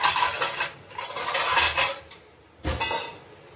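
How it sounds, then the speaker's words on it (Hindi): A lid is set over a pot of tea in a home kitchen, giving a few close metallic clinks and scrapes of metal on metal. "उसके बाद मैं चाय को भी ढक देती हूँ"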